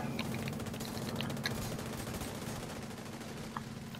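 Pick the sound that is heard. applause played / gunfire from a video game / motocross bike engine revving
gunfire from a video game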